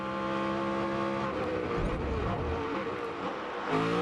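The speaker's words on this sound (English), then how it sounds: "that car closing in on him, that is Ari Leyendijk Jr." Race car from the 2005 Infinity Pro Series at St. Petersburg, heard onboard: a loud, steady engine drone with shifting pitch as gears change, filling the whole stretch with no talk.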